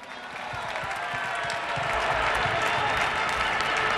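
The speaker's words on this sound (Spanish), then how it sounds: "Un aplauso muy grande para ellos." Dense, steady crowd applause fills a Euro 2012 celebration event, a continuous loud wash of many hands clapping with some cheering and no clear pauses.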